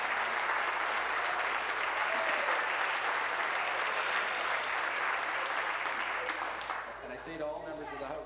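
Sustained applause fills a parliamentary chamber during question period, dense and even for most of the clip before tapering off as a voice begins near the end.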